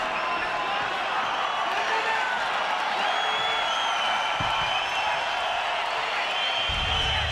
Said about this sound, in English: So the crowd certainly appreciating the effort here of both men.